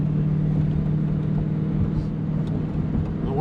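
A squarebody Chevrolet Suburban with 3.73 axle gears and stock-size tires tows a load, its engine humming in a steady, loud low drone with road rumble as it builds speed from inside the cab.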